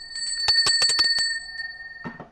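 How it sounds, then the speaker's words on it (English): A bicycle bell rings loud and close in a quick series of about six bright strikes, followed by a fainter, softer ring after a short pause, with no speech. "bell"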